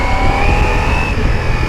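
Short burst of close, loud exhaust growl from a Ducati Multistrada V4 Pikes Peak motorcycle on the move, a rough low rumble with a rising engine whine, no voices.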